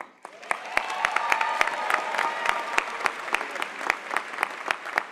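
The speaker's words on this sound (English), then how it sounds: "so we can give you a round of applause for this huge accomplishment" Graduation audience applauds a merit scholar at a partnership school ceremony, a steady wash of clapping with distinct loud individual claps punctuating it throughout, moderately close.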